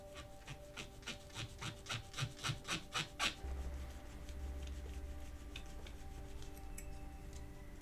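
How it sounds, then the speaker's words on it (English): Fine 2000 grit sandpaper rubs over the plastic windows of a Majorette 210 Volkswagen Golf MK1 model car in about ten quick, close strokes, then gives way to a steady low hum. "I go over it with 2000 grit sandpaper"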